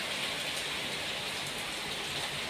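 Heavy, wind-driven rain pours down in a steady, dense, loud hiss with no pauses and no voices.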